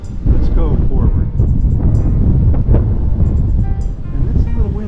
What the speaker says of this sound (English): And it's a little windy out here.